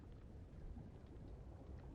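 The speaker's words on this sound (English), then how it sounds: "Oh, it's raining?" Steady rain falls in the Subnautica Below Zero game world, a faint, even, continuous patter of dense droplets with no voices over it.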